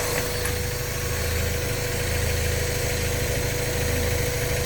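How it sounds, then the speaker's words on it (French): A Mazda MX-5 NB engine idles steadily with a low rumble during an ignition timing check, its pitch wavering only slightly now and then. "on entend le moteur changer un tout petit peu de régime"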